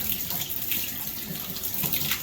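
Water runs from a faucet turned to full hot after Shark Bite fittings were installed, a constant, close, splashing rush with no talking.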